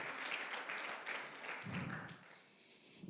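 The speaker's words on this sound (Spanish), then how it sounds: "denle un aplauso al Señor" A church congregation applauds during a Spanish-language sermon on faith, a steady wash of clapping at moderate distance that tapers off toward the end.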